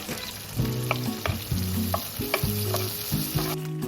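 Whole cumin, small cinnamon sticks and bay leaves sizzle in hot tempering oil for paneer butter masala, a dense close hiss with a few sharp crackles and stirring scrapes.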